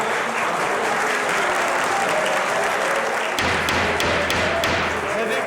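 The public gallery in a courtroom breaks into dense, sustained applause, loud and steady, with a few sharper thuds and taps poking through and some murmuring voices in the crowd.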